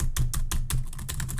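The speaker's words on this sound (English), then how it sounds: "I need a new keyboard because you can hear me go." Fingers type on a computer keyboard, producing a quick run of close, crisp key clicks in an uneven rhythm, with no talking.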